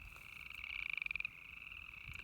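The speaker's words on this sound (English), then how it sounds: "they're little tiny tree frogs that are about the size of a quarter" Tiny tree frogs, about the size of a quarter, call near the water at sunset: a faint, high, pulsing trill rises briefly over quiet low background noise.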